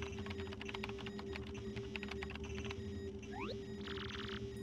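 Rapid keyboard typing in Paper Mario: The Thousand-Year Door, a quick run of soft clicky keystrokes followed by a rising chirp and a short electronic burst, all over a steady low game hum.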